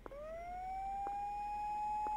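Police siren in the horror video game Tsugunohi: a single rising wail that climbs and then holds a steady pitch, fairly faint, with soft periodic clicks beneath and no talk.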